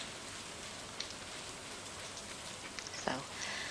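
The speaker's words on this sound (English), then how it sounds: "in game, it's nice and rainy" Steady rain ambience from the farming game Stardew Valley, a dense, even hiss of falling rain with a few soft drip-like ticks and one brief louder tap near the end, faint and continuous with no talking.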